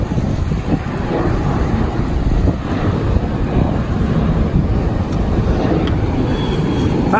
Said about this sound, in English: Southwest jet taking off